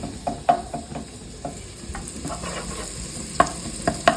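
Chopped garlic fries in a pan before chicken goes in, giving a soft steady sizzle broken by repeated scraping stirs of a utensil, with a few sharper knocks near the end.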